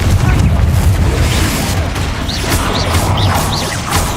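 A Confringo blast spell from Hogwarts Legacy goes off amid heavy low rumbling booms, with a few quick rising whooshes layered over the steady, dense roar.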